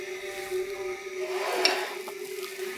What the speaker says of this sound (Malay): Beri ruang untuk asam pedas ini mendidih seketika.